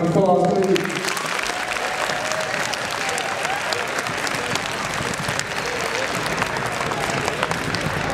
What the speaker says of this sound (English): You guys give the panel a round of applause, please.